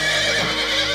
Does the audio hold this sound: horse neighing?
yes